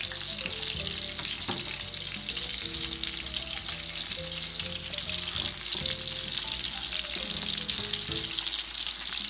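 Shrimp fry in a pan with a steady, close sizzle and crackle, accompanied by light stirring and utensil knocks, and no talking.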